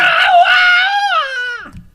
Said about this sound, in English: Suddenly, a monstrous scream echoed through the sleeping camp.